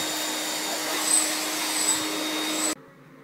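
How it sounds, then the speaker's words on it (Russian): A household vacuum cleaner runs indoors with a steady, loud, hissing whine that holds for nearly three seconds, then cuts off abruptly into quiet room tone. "Сейчас к 9 Ваня у меня пылесосит."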